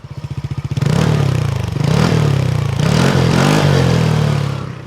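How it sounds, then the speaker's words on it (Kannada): A TVS Ntorq 150 performance scooter engine starts with rapid low putters, then revs and holds a loud, steady mechanical drone close by, swelling and easing with the throttle, with no talking. "One of the best sounding scooters."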